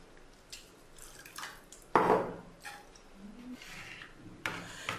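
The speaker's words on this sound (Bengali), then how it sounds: "এখন সবগুলো একসাথে মিশিয়ে নিচ্ছি" Chili powder, turmeric and mustard oil being stirred together in a bowl: wet scraping and rubbing strokes with a few clinks and one louder knock, close and alone.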